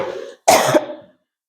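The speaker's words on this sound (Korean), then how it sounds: "오늘 나의 기침 소리가 계속 들리겠는데" A single close cough, sharp and harsh, following a brief breathy throat sound, then silence.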